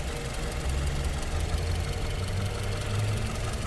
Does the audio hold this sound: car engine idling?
yes